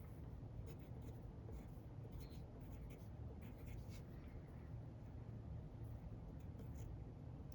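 A pen scratches out numbers by hand on paper in short, close strokes, a continuous soft scribbling with small taps between digits.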